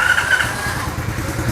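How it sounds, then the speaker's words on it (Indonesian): Small 70cc automatic mini trail motorcycle, an RFZ Thunder 70 Matic, runs with a smooth, steady engine note close by, continuous through the whole moment with no speech. "Suara mesinnya lebih halus"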